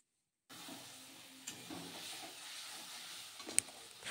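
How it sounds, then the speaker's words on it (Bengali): Pieces of shankar (stingray) fish hit hot oil and spice paste in a pan, setting off a steady close hiss and sizzle with a brief clatter near the start and another around three and a half seconds. "এবার আমি মাছগুলো এর মধ্যে ঢেলে দিচ্ছি।"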